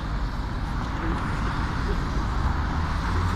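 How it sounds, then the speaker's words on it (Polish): Loud, steady roar of a worn city bus engine, droning like a jet, with heavy low rumble and constant broadband noise throughout. "Autobus hałasujący jak odrzutowiec."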